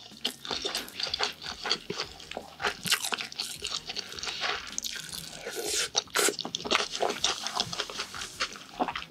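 Soft, sweet egg sushi is chewed close to the mic, with moist crunchy bites and smacking mouth sounds in an irregular rhythm and no talking.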